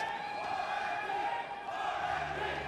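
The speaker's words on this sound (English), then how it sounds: "I think the crowd are trying to tell us something" A stadium crowd cheers and chants in a sustained wall of voices, a steady distant roar with no break.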